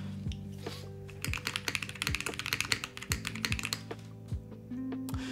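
Crisp, close mechanical keyboard clacks come in a quick flurry of typing, then taper off to a few scattered key presses.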